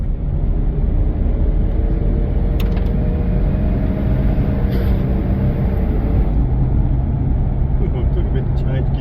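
A Holden VL Turbo with a fault, heard from inside as a steady, loud engine and road drone with faint clicks, voices talking over it.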